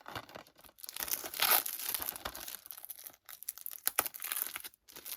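Plastic movie packaging is cut open with scissors, giving a close series of irregular crinkling, tearing and snipping sounds with short pauses between bursts.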